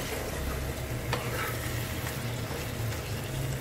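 Chickpea curry with black cardamom sautéed in a pan, a steady soft sizzle with stirring scrapes running throughout at moderate level, alone without talk.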